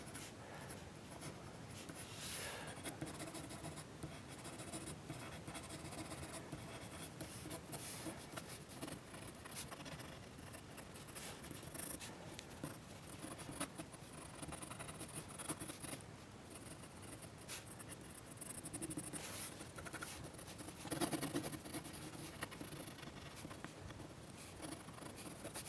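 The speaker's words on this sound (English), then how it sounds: "with your 3, 4B pencil, whatever, we can just put a few branches in just to add a little bit of extra interest" A soft 4B pencil scratches steadily across paper while sketching tree branches, with continuous close, faint scribbling strokes.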